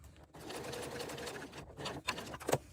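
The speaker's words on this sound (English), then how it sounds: "using a consistent speed as you're sewing, and stopping and starting as few times as possible" Sewing machine stitching a vinyl strap at a steady, even speed, a continuous close mechanical whir with a couple of brief clicks near the end.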